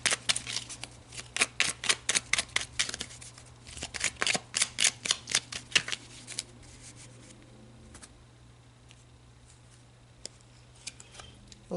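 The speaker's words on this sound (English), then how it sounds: "let's pull some more cards" Tarot cards are shuffled in a quick, even run of crisp riffling flicks, close and clear for several seconds, then a few soft taps and slides as cards are drawn.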